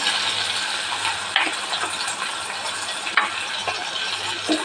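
Coriander, cumin, ginger, turmeric, salt and sugar sizzle steadily in a pan for a lentil fritter and potato curry, with a constant close frying hiss and occasional soft clicks of stirring, no voices.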